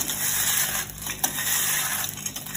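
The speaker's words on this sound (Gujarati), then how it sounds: "આ રીતે હાથેથી મસળીને એડ કરતા જઈશું." Fried edible gum is crushed by hand into a ragi katla pak mixture, making a steady close crackling, crumbling rustle with a few small grainy snaps over a constant background hiss.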